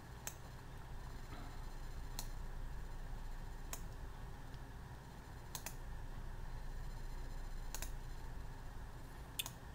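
Computer mouse clicks while working in Illustrator: a handful of sharp, isolated clicks spaced a second or two apart over a steady low background hum.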